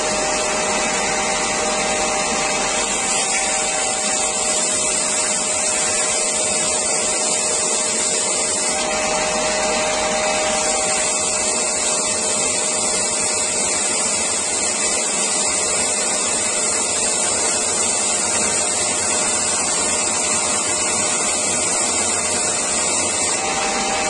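A Parkside PBTS 370 B2 disc and belt sander runs continuously with a steady abrasive whir and hiss, loud and close, with no voices over it.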